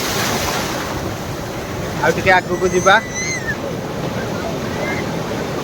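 Continuous roar of surf and wind on an open shore, with a brief burst of talk in the middle over the crashing waves.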